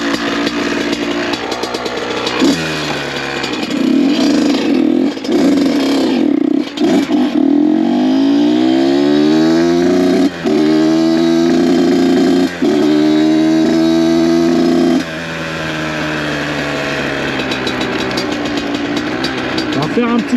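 Two-stroke engine of an 82 cc CR motorcycle converted to supermoto, sounding close and steady, with revs rising and falling in repeated sweeps before settling back to idle.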